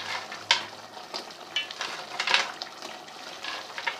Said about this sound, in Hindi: और इसको भून लेते हैं।